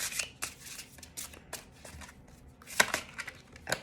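Oracle cards being shuffled by hand, a run of crisp papery riffles and slaps in irregular bursts, fairly close and quiet with no talking.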